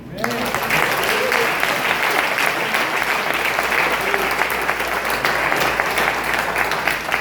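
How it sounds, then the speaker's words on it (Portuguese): An audience at a district couples' seminar breaks into sustained, even applause, loud and full throughout with a faint crowd murmur underneath. "Você pode aplaudir?"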